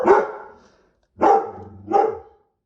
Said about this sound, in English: maybe he's barking at kids going to school